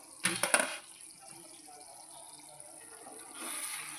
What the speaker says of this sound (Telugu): చూసి వాటర్ పోసేసుకుందాం.